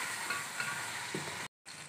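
Boiled meat sizzling in a pan with browned onions, a close, steady frying hiss with light stirring scrapes, briefly cut to silence near the end.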